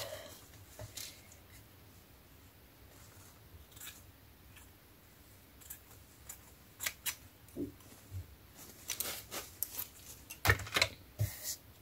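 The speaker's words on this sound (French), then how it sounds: "je vais venir découper un carré" Scissors cut a square of paper for a scrapbooking embellishment, making faint scattered snips that grow into quicker, sharper clusters of clicks near the end.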